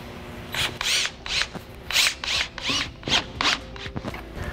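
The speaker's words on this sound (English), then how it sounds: "So we're gonna use those holes that we drilled to put the pocket hole screws." A drill drives pocket hole screws into wooden boards of a rustic farmhouse bench, a rapid series of short whirring, ratcheting bursts close by with brief gaps.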